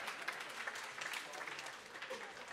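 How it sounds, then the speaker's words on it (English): An audience at a cloud-watching talk during a festival at Selfridges applauds steadily, a faint, continuous patter of many hands clapping with some voices mixed in. "A round of applause, please."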